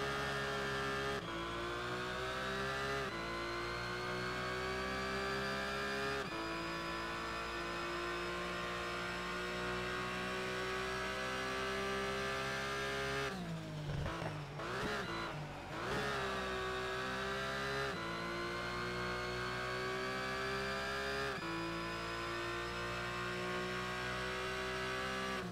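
A Porsche GT3 race car engine in Need for Speed Shift 2 Unleashed drones steadily at high revs, with its pitch climbing through the gears and dropping sharply at each shift. A brief rough burst comes midway, and the engine is loud and continuous throughout.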